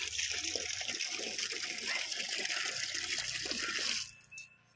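Tap water gushes steadily from a house pipe, a close, continuous splashing rush that suddenly cuts off near the end.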